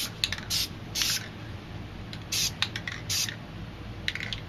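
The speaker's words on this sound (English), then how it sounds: "grab your can of white, and I'm going to do some white straight across the edge of this straight edge" Spray paint can hissing white paint across a straight edge and down the middle for a graffiti moon stencil, in several short close bursts separated by brief pauses.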